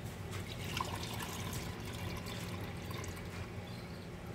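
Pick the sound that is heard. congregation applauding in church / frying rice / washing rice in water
washing rice in water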